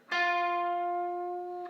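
A single clean electric guitar note rings out and sustains, its pitch curling slightly upward in a quarter-step blues curl bend before fading near the end.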